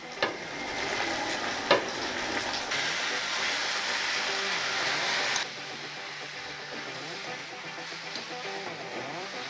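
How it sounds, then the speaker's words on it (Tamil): Chicken pieces frying in oil with onion and tomato for Karaikudi pepper chicken, giving a continuous close sizzle with occasional utensil clinks; the frying quiets somewhat partway through. "இது வந்து தாளித்து விட்டதுக்கப்புறம் ஒரு 5 நிமிஷம் நல்லா அந்த எண்ணெயிலே வதங்கணும்பா"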